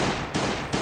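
Gunfire in the mobile survival game Last Day on Earth, a dense, steady burst of shots with two sharp onsets, loud and close, with no talk over it.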